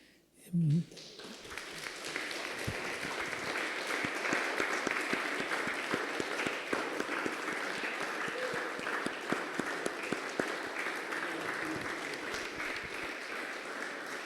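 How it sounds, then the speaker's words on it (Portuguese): A church congregation applauds after a sermon, with steady, dense clapping that runs for about fourteen seconds at an even, sustained level following a short low sound at the start. "Nós aplaudimos a palavra do Senhor."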